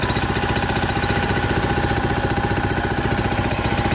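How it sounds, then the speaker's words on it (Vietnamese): A Mitsubishi GB18 6.0 HP water pump engine with an 80 mm outlet runs steadily nearby, a loud, even, rapid mechanical chugging that holds without change throughout. "Máy chạy rất là êm."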